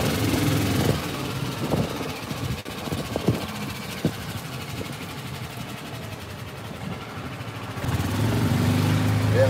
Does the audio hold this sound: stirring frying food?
no